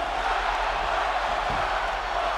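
An arena crowd cheers in the wrestling game WWE 2K24, a dense, steady roar that fills the whole moment at a constant level.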